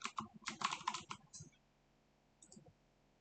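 Rapid bursts of keystrokes on a computer keyboard as a username and password are entered, a dense cluster of clicks for about a second and a half, then a pause and a brief final flurry of taps.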